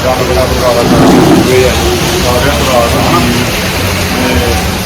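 Heavy village rainstorm with thunder, a loud continuous downpour hiss with a low rumbling swell near the start that slowly fades back into the steady rain.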